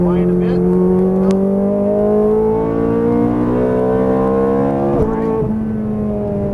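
A Ferrari F430 Scuderia being driven on a track, its engine holding a loud, steady tone that rises in pitch, then drops sharply near the end on a shift or braking.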